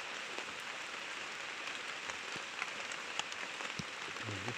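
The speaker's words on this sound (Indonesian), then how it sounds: "Karena di sini hujan." Rain falls steadily outdoors, an even crackling patter of drops on surfaces with occasional sharper taps, fairly close and without voices.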